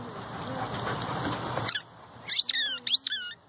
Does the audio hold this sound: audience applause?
no